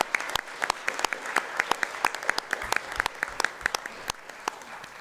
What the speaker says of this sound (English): Let's give one more round of applause for this outstanding program.